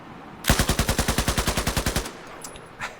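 A sustained burst of full-auto fire from the Pig machine gun, roughly fifteen rapid evenly spaced loud shots over about a second and a half, then a quiet tail with small mechanical clicks.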